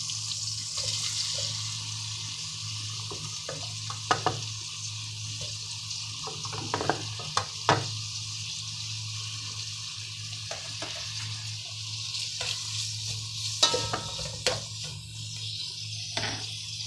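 Tomatoes sautéing in a pan for a Filipino chicken soup with eggs give a continuous sizzle, with scattered clinks and scrapes of stirring close by and no voices.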